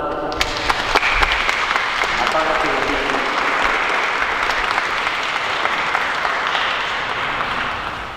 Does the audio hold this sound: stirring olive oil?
no